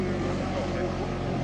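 A 150cc two-cylinder boxer petrol engine drives a four-blade Kevlar propeller, giving off a steady, loud droning hum with a rough low-end buzz. It runs continuously and alone, with no break in tone.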